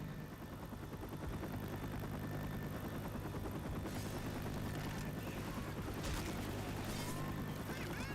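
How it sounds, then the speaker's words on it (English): A helicopter arrives in the zombie shooter Left 4 Dead amid a steady, loud rotor drone, with bursts of gunfire and booms layered over it throughout. "Guys, the helicopter's here! Let's go!"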